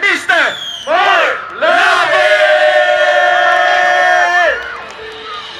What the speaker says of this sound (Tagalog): bigyan natin ng malakas na palakpakan at sigawan ang nag-iisan naming kuya